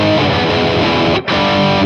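A distorted electric guitar plays the B section of a song as a thick, loud, continuous wall of overdriven chords, broken by one brief gap near the end, with no talking.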